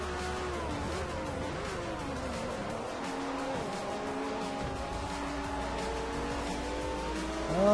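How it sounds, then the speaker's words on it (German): Race car in Forza 4 braking hard, its tires squealing in long wavering tones over a steady, loud engine drone that holds throughout. "Ah, jetzt habe ich gebremst."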